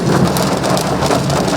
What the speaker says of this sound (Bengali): বজ্রবিদ্যুৎ সহ একেবারে ঝেঁপে বৃষ্টি গোটা কলকাতা জুড়ে